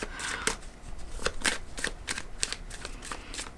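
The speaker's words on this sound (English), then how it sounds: "let's pull some animal cards to get more for you, Aries" A deck of animal oracle cards being shuffled by hand, a close run of crisp riffling flicks and slaps at an uneven rhythm, fairly quiet.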